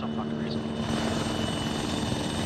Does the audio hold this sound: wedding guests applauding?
no